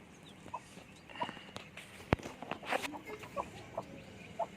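Free-range native country chickens on a Tamil Nadu poultry farm, with scattered clucks and short fowl calls near and far, plus faint footsteps and light rustling across a quiet outdoor yard.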